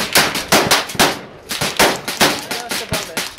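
Rapid series of loud, sharp gunshots from .357 Magnum revolvers at an outdoor shooting range in a canyon, about a dozen close reports in quick, uneven succession with hardly any pause.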